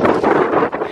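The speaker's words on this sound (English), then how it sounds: "We need wind! Come on, wind! Blow!" Wind buffeting an outdoor microphone while a kite is flown, a loud, broadband roaring rush that swells and dips over a second, with no speech.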